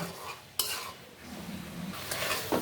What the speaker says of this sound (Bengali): এভাবে আমি এক মিনিটের মতো নেড়ে চেড়ে নিব তারপরে ভেন্ডিটা নামিয়ে নিব